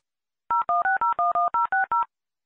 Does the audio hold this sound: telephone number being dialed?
yes